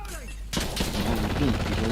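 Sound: gunfire in the video game Insurgency: Sandstorm

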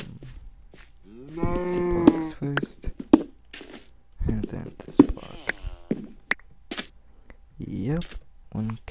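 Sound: cow mooing in Minecraft video game

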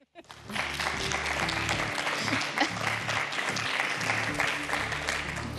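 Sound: audience applause in a studio

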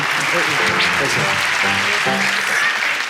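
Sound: applause

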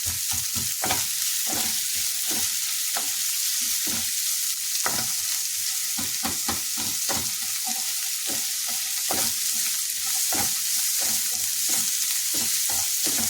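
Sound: onions frying and being stirred in a pan

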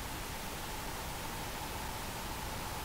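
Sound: pink noise test signal played through a channel strip EQ

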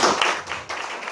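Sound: audience applause

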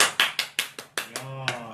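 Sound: hands clapping

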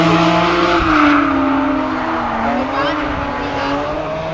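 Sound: drifting BMW Z3 with Toyota Supra engine, tire squeal

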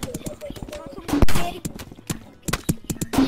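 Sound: gunfire in a video game

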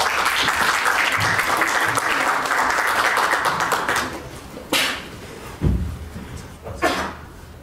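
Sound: audience applause welcoming a speaker

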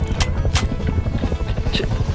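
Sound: helicopter in the video game Rust

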